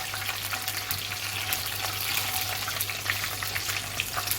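Chicken fries in a pan with a soft, steady sizzle and faint crackles, quiet and close, running continuously without voices.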